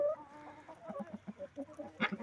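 Chickens in a coop cluck softly nearby, a quick run of short, low clucks with one sharper squawk near the end.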